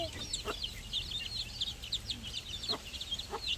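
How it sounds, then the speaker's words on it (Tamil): A hen loose outside its pen clucks repeatedly in short, close bursts, with high chick peeps chirping steadily above a low background hum. "ஐயோ கோழி வெளியே வந்துருச்சு."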